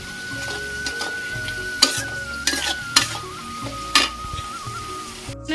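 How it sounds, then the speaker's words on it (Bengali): Meat and onions frying in a small kadai, a continuous sizzle broken by several sharp scraping stirs of a spatula against the pan, close and clear with no talk. "আর এখানে মাংস পেঁয়াজগুলো ভাজা বসিয়ে দিয়েছি"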